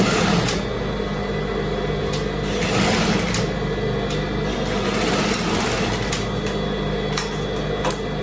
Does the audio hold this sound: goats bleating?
no